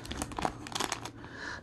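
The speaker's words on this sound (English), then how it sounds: "Sorry about the crinkling." A plastic wrapper around a scented wax melt crinkles and crackles in short, close, fairly quiet bursts as it is pulled open.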